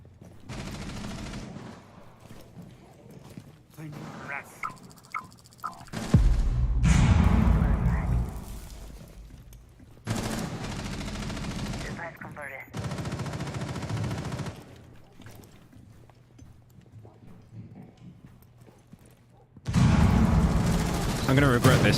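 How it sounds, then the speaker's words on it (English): Video game gunfire hammers at Mira's shield in rapid bursts separated by quieter gaps, with a talking voice over parts of it. "Can't you crack Mira's shield if you shoot it enough,"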